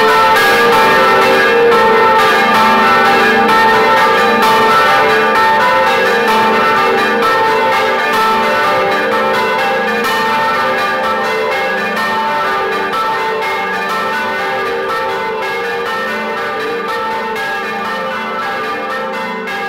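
Church bells of San Giovanni Battista parish in Spilamberto, Modena, peal loudly and continuously, several bells overlapping in a dense ringing wash that fades only slightly over about twenty seconds, with no voices.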